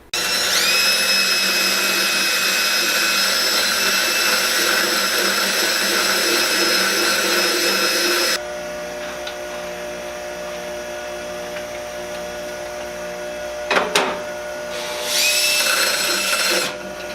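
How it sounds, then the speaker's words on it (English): A power grinder cutting down coupling bolts for a VW VR6 Jetta limited-slip differential install, a loud, close, high-pitched whine held steady for several seconds, then quieter shop noise, a sharp clank, and a brief second burst of grinding. "we still have to grind these bolts for the couplings"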